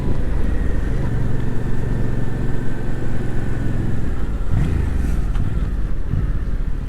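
A 2022 Yamaha MT-07 motorcycle rolls in slowly with a steady low engine drone close by, continuous throughout with a brief clatter near the end as the bike eases to a stop.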